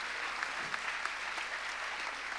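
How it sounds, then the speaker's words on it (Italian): A theatre audience at a cover-band concert in Teatro F. Cilea, Reggio Calabria, claps steadily in a dense, even wash of applause that holds at one level for the whole stretch, with no voices standing out. "Volevo fare un applauso alla Calabria."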